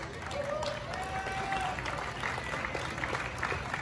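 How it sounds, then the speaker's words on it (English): Crowd applause at an Oktoberfest event at Clark in the Philippines, steady moderate clapping from a gathered audience with some voices and background noise mixed in. "Round of applause, please."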